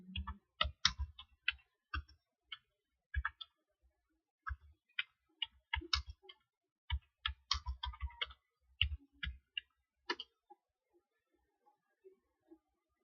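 Keyboard typing at a computer, irregular bursts of crisp close keystrokes with short pauses between groups, thinning out to a few scattered taps at the end.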